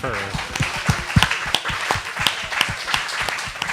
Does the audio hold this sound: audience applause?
yes